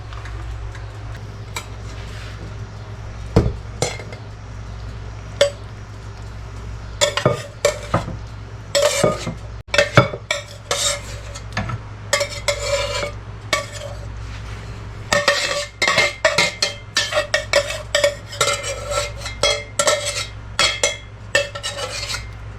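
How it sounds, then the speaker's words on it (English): Utensil stirring picnic pasta salad in a bowl, giving quiet scraping and irregular clinks and taps that grow busier after the first few seconds and run on steadily, with no talking. "all we have to do is stir"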